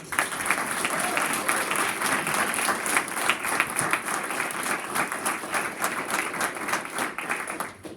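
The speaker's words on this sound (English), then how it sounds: "And let's give him a round of applause." Audience applause at a college signing ceremony for a cross-country runner, sustained dense clapping from a small crowd lasting several seconds before tapering off.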